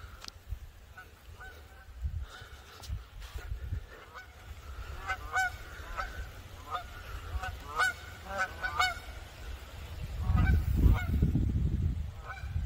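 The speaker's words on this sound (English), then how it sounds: "Oh, there's come some more geese." Geese honk repeatedly in ragged bursts at a moderate distance, over outdoor wind rumble that swells louder near the end.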